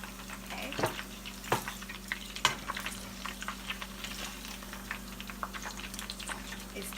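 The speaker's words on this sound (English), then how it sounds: "It's still frying where I took it out." Fried chicken keeps crackling and sizzling in a pot of hot oil, a steady close bubbling hiss broken by sharp pops every second or so, with no talking.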